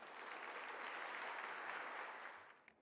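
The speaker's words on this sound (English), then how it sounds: "I wonder if you could all just give him a wonderful round of applause" An audience at a public lecture breaks into sustained applause, a dense wash of clapping from many hands that holds steady and then fades away near the end.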